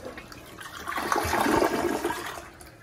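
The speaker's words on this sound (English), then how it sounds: "There we go. Let's flush." A PROFLO toilet flushing, water rushing loudly through the bowl, building to a peak midway and then draining away, close by with no talk.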